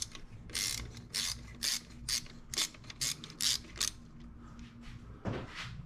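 A 12mm socket wrench ratchets two M8 mounting bolts loose on an RB26DETT fuel rail, giving close, crisp clicking bursts in an uneven rhythm with short pauses between them.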